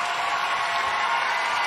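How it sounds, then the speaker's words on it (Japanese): Dense, steady applause fills a large arena at the 2012 World Figure Skating Championships as the crowd gives a standing ovation after a men's singles short program, sounding like a continuous roar from a distance. "大きな拍手、もちろんスタンディングオベーション。"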